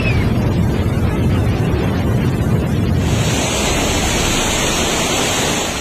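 Floodwater rushing through Sindhupalchok, Nepal, a loud, continuous roar of churning water with wind buffeting the microphone, steady throughout with no voices.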